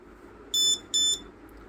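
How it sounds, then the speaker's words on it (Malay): A homemade drag race start-light buzzer sounds two short, bright electronic beeps in quick succession, each lasting about a quarter second, loud and close over faint background hum. "buzzer akan bunyi 2 kali"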